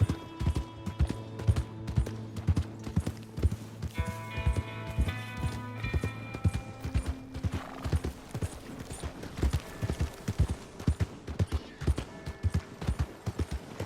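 Horse hooves clip-clop in a steady walking rhythm in the video game Red Dead Redemption 2, close and clear, with brief tonal game-like chimes partway through.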